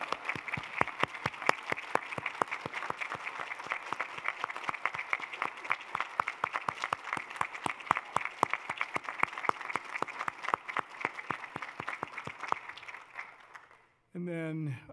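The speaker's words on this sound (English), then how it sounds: "how about one more round of applause for all of our great student award winners?" An audience at a spring student awards ceremony gives a round of applause for the award winners, steady clapping that runs on for several seconds and then stops abruptly, followed by a brief voice.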